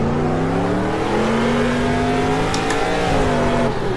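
A 600-horsepower stadium trophy truck revs loud and close, its deep engine note climbing steadily and then easing off, with a brief sharp crackle near the top of the rise.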